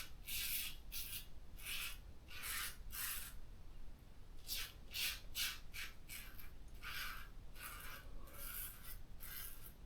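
A Bullmann Strado straight razor scrapes across stubble against the grain on a third pass, making a series of short, crisp raspy strokes in quick irregular bursts, very close and quiet with no talking.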